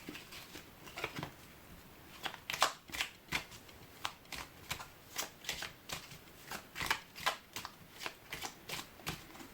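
Tarot cards being shuffled by hand in a series of crisp riffling bursts and soft slaps, repeating irregularly and close up, with no talking.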